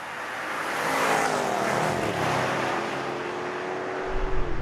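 Porsche Cayenne Turbo V8 SUV on a race track at Brands Hatch, a muffled, steady engine drone rising and holding through the straight with broad wind and road roar, no talking.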